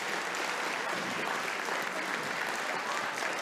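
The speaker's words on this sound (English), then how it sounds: "How about another round of applause for our orchestra students?" An audience applauds orchestra students at an elementary school winter concert, continuous even clapping that fills the room at a steady level throughout.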